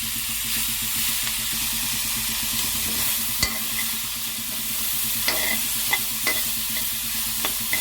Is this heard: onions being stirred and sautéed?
yes